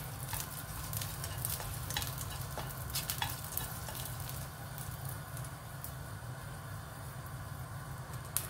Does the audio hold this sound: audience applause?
no